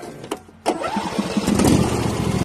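A tractor engine cranks briefly, then catches and settles into a loud, close, rough running rumble.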